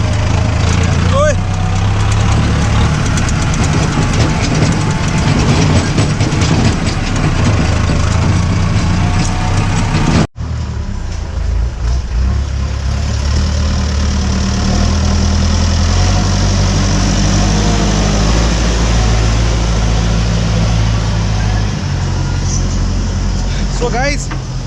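A Mahindra tractor runs flat out at top speed, its engine a loud, steady low-pitched roar close by that continues unbroken except for a brief cut midway, with people talking over it.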